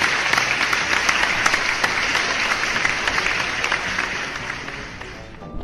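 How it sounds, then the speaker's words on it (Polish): Steady, dense applause from a crowd, many hands clapping continuously and fairly loud, tapering slightly at the very end. "wielkie, ale to wielkie brawa"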